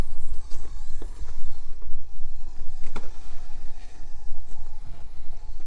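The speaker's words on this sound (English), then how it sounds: "Transmission's a little noisy with those metal gears." The Meus Racing 2-speed metal-gear transmission in a Traxxas TRX4M RC truck gives off a close, continuous whirring gear whine that rises and falls as the truck drives, with occasional clicks and knocks.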